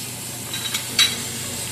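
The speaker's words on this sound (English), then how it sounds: "We're turning over the fish now. Frying the other side of it." Mullet frying in a pan in a home kitchen, a steady soft sizzle and hiss with a couple of brief louder spits as the fish is turned, close and alone without talk.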